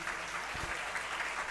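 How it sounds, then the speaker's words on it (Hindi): Audience clapping in a crowd at a Jain religious discourse, a steady wash of applause holding evenly for a couple of seconds with no speech over it. "तालियां बज गई।"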